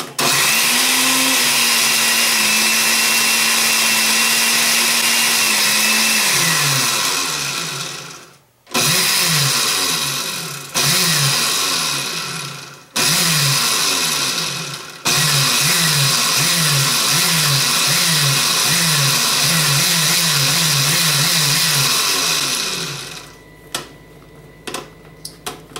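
A blender pureeing faux moss for a prop, loud whirring motor running in long bursts that stop and restart, pitch dipping and surging as the material churns, then cutting out near the end.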